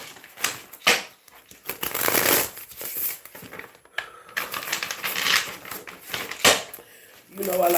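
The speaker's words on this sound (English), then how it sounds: "You know I like to give 3 good shuffles before I begin." A deck of cards is shuffled three times in quick riffling bursts that crackle and flutter, interleaved with close speech and light handling taps between the shuffles.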